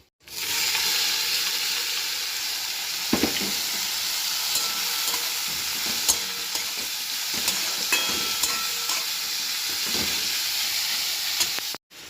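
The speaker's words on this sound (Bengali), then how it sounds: "শুকনো লঙ্কা ফোড়ন কাঁচা লঙ্কা ফোড়ন আর দেবো একটু রসুন" Dry red chilies, green chilies and garlic sizzle loudly in hot oil in a kadai, a continuous dense frying hiss with occasional crackles and stirring knocks, no talking.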